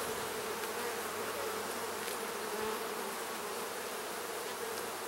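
Honeybees swarm around an opened hive during an inspection, a thick, even buzzing drone close to the ear, with no talk.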